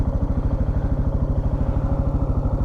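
A boat engine chugs steadily nearby going up the Cowlitz River, with a rapid, rhythmic low throb and a mechanical clatter, loud and unbroken, with no voices.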